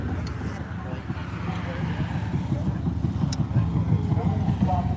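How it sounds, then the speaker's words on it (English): A motorcycle rumbles past nearby with a low, steady engine drone, while people talk over it. "Oh, it's a motorcycle."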